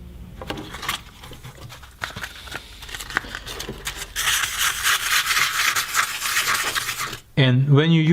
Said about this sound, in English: And when you use the sandpaper, do it in circle.